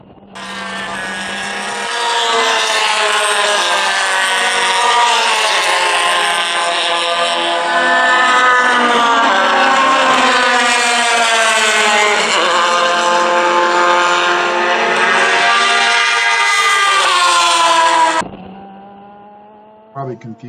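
A race car at Buttonwillow heads down toward the final corner at sunset, its engine a loud, sustained high-revving drone with rising and falling pitch, then cutting off abruptly near the end.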